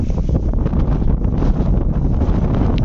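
Heavy wind buffeting a microphone outdoors at a bull pasture, a steady loud rumbling roar that lasts the whole time with no voices.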